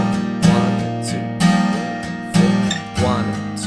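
Acoustic guitar strums the chorus in steady rhythmic chords, with accented downstrokes about once a second, sustained and ringing, close and alone.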